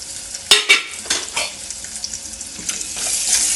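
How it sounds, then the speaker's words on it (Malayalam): Shallots, garlic and dried chillies frying in hot oil, a steady sizzle broken by a few sharp spatters and stirring scrapes, close and fairly loud with no talking. "ഇതിൽ കിടന്ന് മൂത്ത് വരട്ടെ കേട്ടോ, ബ്രൗൺ കളറായി വരട്ടെ."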